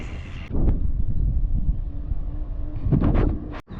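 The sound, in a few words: headwind blowing on a bike ride around Lake Annecy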